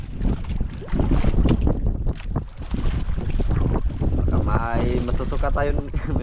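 Large waves strike a small fishing boat at sea, making a continuous roar of wind and rushing, slapping water. The sound stays loud and steady throughout, and voices are heard over it.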